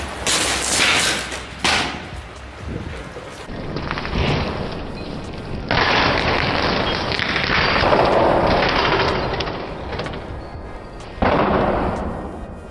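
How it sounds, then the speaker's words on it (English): A glass vial holding leftover liquid cesium is thrown onto a wet wall and explodes in a series of loud, sharp cracks and booms. Several bursts are followed by rumbling, crackling decay, with no talking. "We have decided to destroy the vial with the remnants of liquid cesium by throwing it onto"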